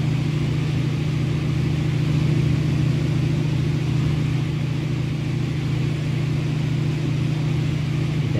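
Continuous steady drone of a DHC-2 Beaver radial propeller engine in a flight simulator, loud and even with a strong low hum and no voices.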